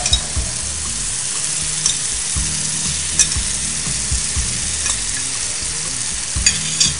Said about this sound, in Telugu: దీంట్లో ఈ మిక్సర్ కొద్దిగా స్పూన్ తోటి నాన్ స్టిక్ ప్యాన్ ఒకసారి తీసుకొని అది కాస్త వేడైన తర్వాత మిక్సర్ని అక్కడక్కడ అలా వేసేస్తున్నాను